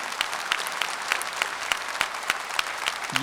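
Scattered hand claps from an audience at a Tamil marriage-forum talk, sparse and fairly faint, a few sharp claps spread steadily across a quiet room.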